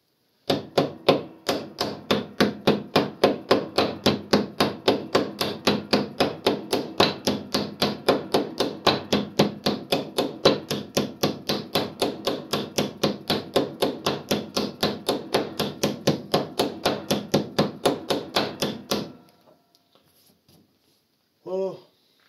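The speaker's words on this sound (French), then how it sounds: "quand on tape avec le maillet, essayez de bien taper sur le côté, sur l'angle" A mallet raps steadily against the side edge of pellet press rollers, a fast, even series of sharp, close knocks lasting nearly twenty seconds, then stopping, followed by a short faint sound.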